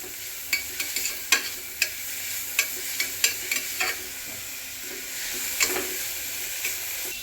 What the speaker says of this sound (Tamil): நம்ம கேரட்டும் மல்லி புதினா எல்லாமே எடுத்து வச்சுருந்தோங்களா, அதுவுமே சேர்த்து நல்லா வணக்குறோங்க